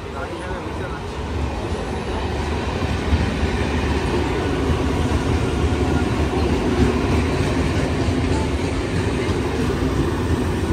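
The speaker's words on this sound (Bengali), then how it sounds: "ভাই কত বড় ট্রেন ভাই" A big train rolls past nearby with a loud, steady rumble and rhythmic wheel clatter that holds for the whole stretch, with voices faintly mixed in.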